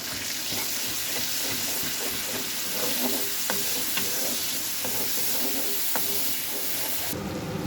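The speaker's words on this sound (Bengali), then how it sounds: "ভালো করে কষিয়ে নেব।" Potatoes sauté in a pan with cumin and coriander powder and a splash of water, a steady sizzling hiss with occasional soft stirring scrapes and taps underneath.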